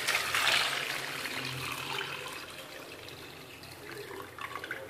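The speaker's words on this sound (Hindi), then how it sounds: "पानी के मेरे पास 4 ग्लास है।" Water is poured into a cooking pot holding plums for a summer sharbat, a soft continuous pouring and splashing that is strongest at the start and then tapers to a quieter trickle, with no talk.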